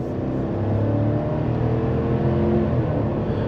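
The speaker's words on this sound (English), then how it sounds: "Give a little gas here." A 2024 GMC Sierra 1500 pickup's 5.3L V8 revs up and accelerates smoothly, its droning pitch rising steadily as it pulls, heard close from inside the cab.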